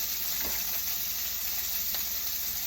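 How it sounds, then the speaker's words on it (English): Steak frying in a pan with butter sizzles loudly and steadily at close range, a dense crackling hiss with a couple of faint scrapes, no voices. "I'm going to put some butter on this other steak, seal in the moisture"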